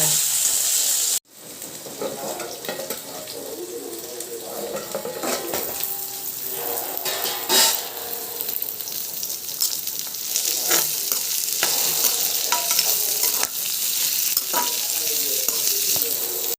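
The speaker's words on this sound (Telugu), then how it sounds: "ఈ వంకాయలు కాసేపు ఫ్రై అయినాక" Stuffed eggplants, gutti vankaya, fry in a pan with a continuous close sizzle broken by scattered clinks and scrapes of stirring, after a brief cut near the start.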